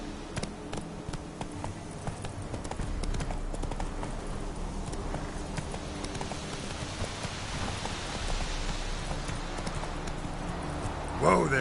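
Hooves of Roach, a horse in The Witcher 3, clip-clop steadily at a trot over a soft patter of rain, with game ambience around and a brief louder burst at the very end.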